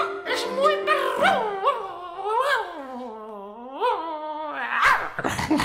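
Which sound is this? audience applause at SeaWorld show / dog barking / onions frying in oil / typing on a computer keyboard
dog barking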